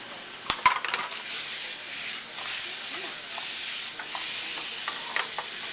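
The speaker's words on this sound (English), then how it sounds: "now our butter and our brown sugars are incorporated and they're starting to bubble" Quartered fresh strawberries hit a pan of bubbling melted butter and brown sugar, setting off a steady sizzle with a couple of sharp knocks near the start and light stirring and clinking throughout, close and moderately loud.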